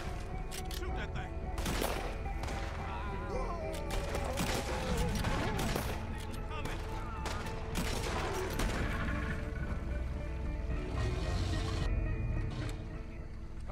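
Gunfire in the Red Dead Redemption 2 video game, sustained rapid shots and fusillade cracks over a dense mix of game noise and voices talking throughout.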